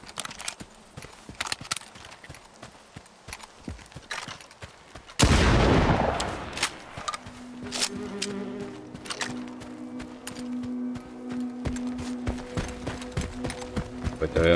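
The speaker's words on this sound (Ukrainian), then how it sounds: "Давай хоч подивимося, як дробовик стріляє." Shotgun blast from the video game S.T.A.L.K.E.R. 2, a single loud, close boom that cuts in suddenly midway and rings off, with game ambience and humming tones continuing after it.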